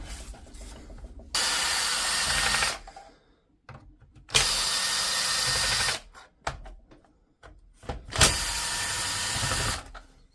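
A power driver backs screws out of a DeWalt DCS391 circular saw, three loud bursts of whirring, each lasting about a second and a half, separated by quiet handling clicks.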